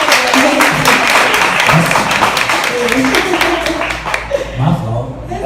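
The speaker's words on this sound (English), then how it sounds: "Gotta give a round of applause for that." Audience applause at an interview and private listening party, a run of sharp, closely spaced claps with people talking over and around it.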